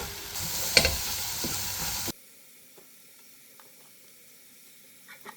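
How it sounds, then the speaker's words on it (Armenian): Chopped onion and grated carrot frying in vegetable oil in a pan, a loud close sizzle with stirring for about two seconds before it cuts abruptly to near silence with faint small clicks. "Այստեղ սոխարացն եմ պատրաստում, հենց սոխը մի քիչ թափանցիկ դառնա, կավելացնեմ նաեւ քերած գազարը։"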